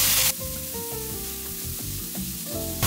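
Beef frying in a wok with dried chilies, minced garlic, scallion and ginger gives a steady, close sizzle that runs unbroken over a tonal background, beginning with a brief louder burst.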